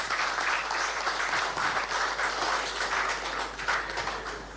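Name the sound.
congress audience applause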